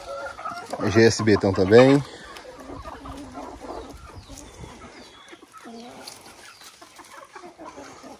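Chickens and roosters cluck loudly and close for about a second on a backyard poultry farm, including six young male birds, then fainter fowl calls continue while someone talks over them.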